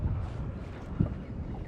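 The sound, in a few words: wind blowing on a fishing boat near an island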